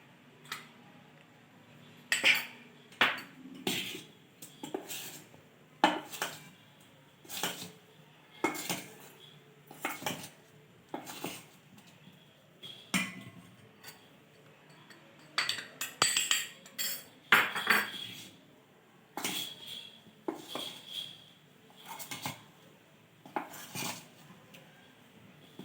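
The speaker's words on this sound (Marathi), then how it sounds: "अगदी अलगदपणे मिक्स करायचा।" Two-egg vanilla cupcake batter being gently mixed in a bowl, with soft, irregular clinks and scrapes of a utensil against the dish repeating steadily throughout, close by and fairly quiet, with no talking.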